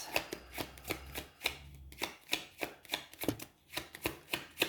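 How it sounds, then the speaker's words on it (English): Tarot cards being shuffled by hand off to the side, a steady series of crisp riffling bursts at a close, quiet level with no talking. "As always, I shuffle off camera because it's a little bit narrow to shuffle on camera."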